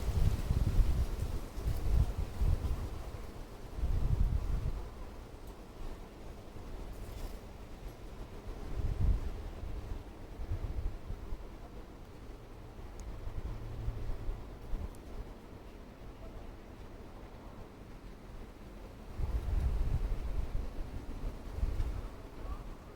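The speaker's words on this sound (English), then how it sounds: "And it's windy." Wind blowing outdoors during plein air painting in Austin, Texas, heard as low, gusty rumbling and buffeting on the microphone, swelling in several bursts over steady background noise.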